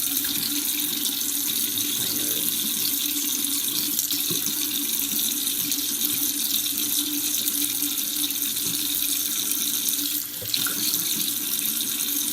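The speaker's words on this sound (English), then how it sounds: "I'm going to wash my hands." A kitchen tap runs steadily as hands are washed under it, a close, continuous splashing hiss of water with slight shifts in flow and no speech.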